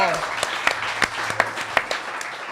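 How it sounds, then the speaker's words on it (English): An audience at a live show claps and cheers after a request for a round of applause, a dense close wash of clapping with sharp individual claps, while a voice speaks over it. "Let's give this round of applause to Buffalo Wobbs and Catfish and Big Dan and"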